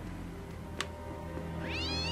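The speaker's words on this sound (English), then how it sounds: "Hello, catty cat." A cat in the horror adventure game 2Dark gives a short, rising meow at the very end, faint beneath a steady background hum and a single soft click.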